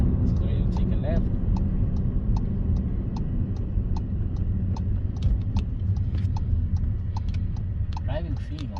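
A Volkswagen Polo 1.0 TSI drives along, heard from inside the cabin as a steady low road and engine rumble with a regular ticking like a turn signal, and a brief voice near the end.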